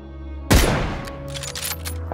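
A single loud, close gunshot rings out in the battle royale game PUBG, followed by a decaying tail and a scatter of fainter shots and impacts in the background.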